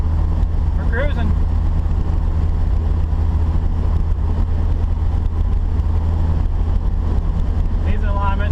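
A 1967 Ford Mustang engine hums steadily at close range while driving and shifting gears, a continuous low drone with brief changes in pitch, and a person talks over it now and then.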